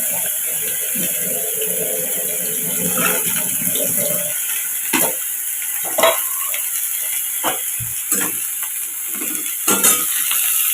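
Potatoes added to lightly fried onions in a hot pan, a loud steady sizzle with scraping stirs and utensil knocks recurring through the second half, no speech.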